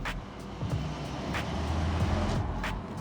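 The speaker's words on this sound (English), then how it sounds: "we're just going through the Goodwood Tunnel. I probably should put the window down." Porsche 911 992 Turbo S engine droning through Goodwood Tunnel with the window down, a steady low rumble rising slightly in loudness with faint tonal harmonics and no talk.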